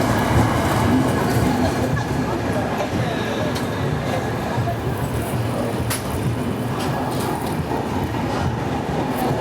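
Ajanta Express train departing Chhatrapati Sambhaji Nagar, heard from onboard: a loud, steady rumble of the moving train with a dense rolling roar and faint clanks, continuous throughout with no clear pauses.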